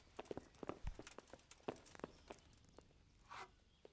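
Horse hooves clip-clopping in the medieval video game Kingdom Come: Deliverance, a series of quiet, uneven hoof strikes in a slow walking rhythm with no talk over them.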